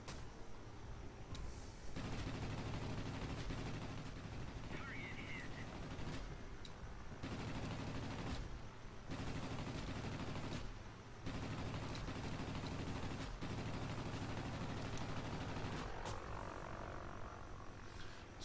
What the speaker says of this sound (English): So I'm under anti-aircraft fire